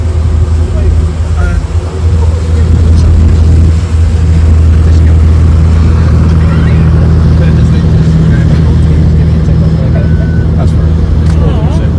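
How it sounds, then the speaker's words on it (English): Ferry engine running with a continuous low rumbling drone throughout, close and steady, with faint voices in the background. "That's the other ferry."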